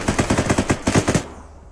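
Automatic gunfire in Arma 3 plays as a rapid, evenly paced burst of about a dozen loud, close shots, then stops and leaves a short fading tail.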